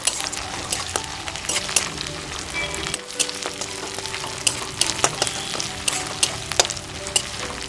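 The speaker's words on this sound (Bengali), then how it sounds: "এখন এর মধ্যে দিয়ে দিচ্ছি 1 টিস্পুন আদা ও রসুন বাটা। এবার এগুলো একটু ভেজে নেব।" Ginger and garlic paste fries with browned onions in a hot pan, a loud, dense, continuous sizzle close by, broken by occasional sharp pops and crackles, with no voices.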